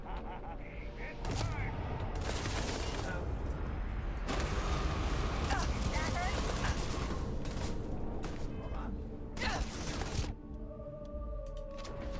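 Gunfire while shooting security guards in a trade tower in Starfield, bursts of rapid shots and loud blasts scattered among mechanical clanks and creaks, with a voice talking over the fight.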